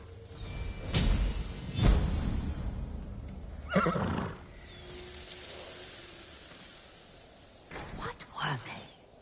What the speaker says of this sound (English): You're a good horse,